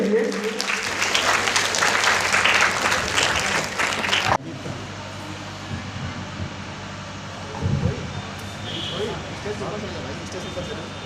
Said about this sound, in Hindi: एक बार जोरदार तालियों से स्वागत आज के हमारे अतिथियों के लिए।